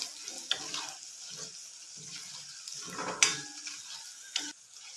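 Pepper and fenugreek powder stirred in a pan for fish pickle, with soft scraping strokes and light sizzling at close range, broken by a few sharper clinks of the spoon against the pan.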